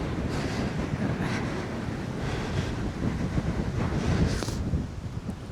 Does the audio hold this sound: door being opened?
no